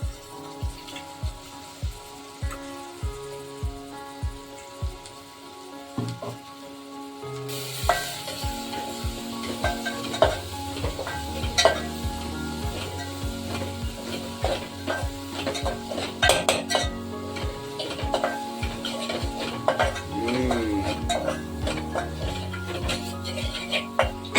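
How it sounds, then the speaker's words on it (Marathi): An onion, coconut, garlic, turmeric and coriander masala added to a pan for crab rassa and stirred, heard as rhythmic spoon scraping on metal followed by louder sizzling and clattering stirring, with no voices. "आता हा आपण मिश्रण केलेलं आहे कांदा खोबरा लसूण हळद आणि धना पावडर यांचं मिश्रण आहे तर तो पण आपण त्याच्यामध्ये आता टाकणार आहोत"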